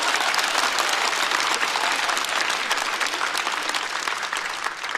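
An audience at a stand-up comedy show breaks into loud, dense applause that holds steady for several seconds and eases slightly toward the end.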